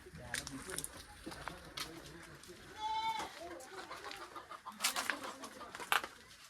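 A village rooster clucks in short, scattered bursts in an open farm field, mostly faint and partly buried under several people talking and calling out around it.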